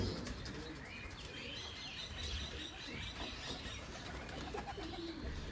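Giribaz pigeons flutter and call nearby in a loft, wingbeats and soft chirps running continuously over a dense outdoor background with no talking.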